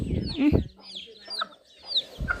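Chickens cluck in short, scattered bursts at a merit-making festival outing, the calls coming near and fairly loud against a quiet background, with a few sharper higher notes among them.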